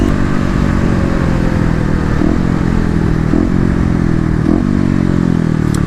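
A KLX250 motorcycle on the move gives a steady, loud engine drone with wind roar, broken by three brief shift blips spaced about a second apart.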